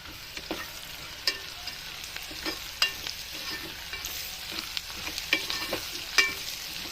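Four green chillies sizzle in hot oil with cumin and mustard seeds for rava upma, a steady crackling fry with occasional sharp pops and light stirring scrapes, close and alone.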